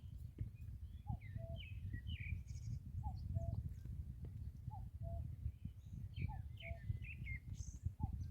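A distant cuckoo repeats its two-note call again and again, steady and faint, while other small birds twitter over a low outdoor hum at Daecheong Lake.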